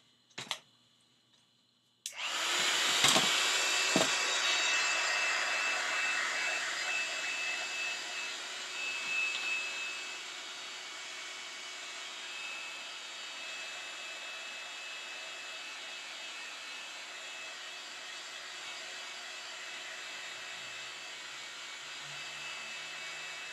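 A hair dryer switches on and blows a loud, steady, whooshing stream of air over wet paint in a sketchbook, the tone easing slightly after a few seconds and then holding constant.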